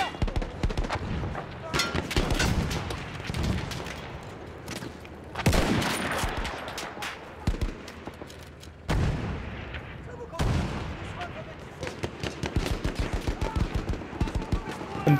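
Battlefield 1 gameplay with a sniper rifle, a grenade going off among heavy gunfire: repeated loud shots and bursts, sharp blasts near the 5.5 and 10.5 second marks, sustained rattling fire throughout and no voices.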